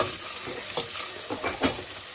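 Garlic sizzling gently in olive oil over low heat, a soft steady crackle with a few brief stirring bursts, close and alone without talk.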